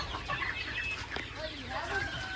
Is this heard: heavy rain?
no